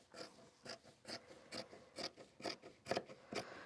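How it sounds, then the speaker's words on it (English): Scissors snipping down the center of sewn fabric for a custom-size Christmas tree skirt, eight crisp, evenly spaced cuts close up in a steady rhythm with no talking. "So I'm just going to carefully cut down the center."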